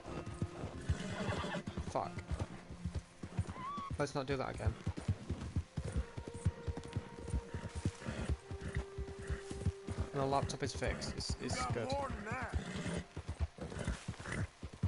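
Horse neighs and clip-clopping hooves in Red Dead Redemption 2 story mode, a freshly spawned horse, mixed with game ambience under steady talking throughout.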